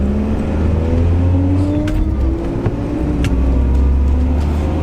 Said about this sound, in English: We are on the Nurburgring in a transit van.